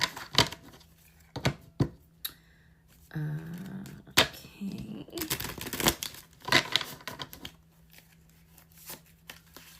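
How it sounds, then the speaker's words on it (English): Tarot cards are shuffled close by in a series of crisp riffles and slaps, papery snaps coming in uneven bursts, with a brief spoken word partway through. "We shall shuffle."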